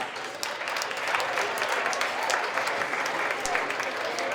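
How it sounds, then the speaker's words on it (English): A gala audience at a chamber of commerce Fire & Ice event breaks into a big round of applause, dense and continuous clapping that holds steady at moderate volume throughout. "Another big round of applause for David, please."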